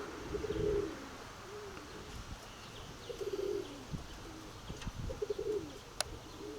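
Soft, repeated pigeon cooing in short bursts, several phrases spread across the clip, with faint chirps and a light outdoor background hum.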